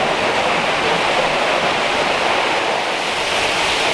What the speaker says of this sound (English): here's the giant waterfall